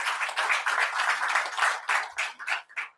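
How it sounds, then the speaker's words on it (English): Audience applause at a foundation entrepreneurship program launch, a dense burst of hand clapping from a crowd that thins into scattered claps before fading out. "So I think we should all applaud that and really welcome this fantastic initiative."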